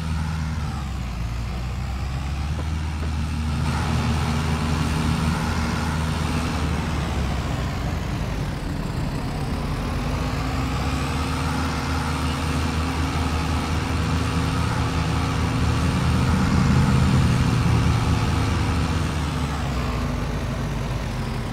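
Massey Ferguson 7S tractor engine in Farming Simulator 22, a steady loud low diesel drone that runs continuously, swelling slightly in pitch and volume toward the end, with no talk.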